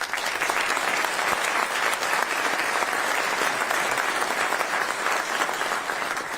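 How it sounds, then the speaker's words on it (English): An audience claps steadily and evenly in a dense, continuous round of applause at a Marshall University event introducing a new head football coach. "Please give a round of applause."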